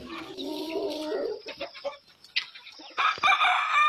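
Chickens on a poultry farm cluck and squawk close by in uneven bursts, with a rooster crowing loudly near the end.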